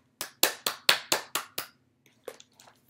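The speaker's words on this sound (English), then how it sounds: "A clap means I like it." Hands clap during a children's storytime, seven crisp, evenly spaced claps close up in quick rhythm, followed by a pause and a few softer, scattered claps.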